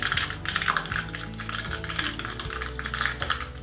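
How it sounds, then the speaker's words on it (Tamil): Mustard seeds and cumin are tempered in a hot pan while a utensil stirs them, making a dense, continuous crackle with light metallic clinks. The sound stays close and fairly loud throughout. "இப்போ தாளித்து கொட்ட ஆரம்பிச்சிடுவோம்."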